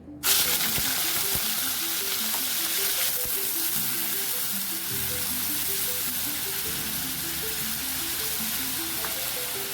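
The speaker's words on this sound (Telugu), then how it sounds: "చూడండి, ఆయిల్ కాగింది కదా. మనం ఆయిల్ కాగినప్పుడు ఎప్పుడు కూడా నీట్గా చూడండి రొయ్యలు వేసేద్దాం." Shrimp drop into hot oil and fry with a loud, continuous sizzle and crackle that stays steady at close range, with no talking over it.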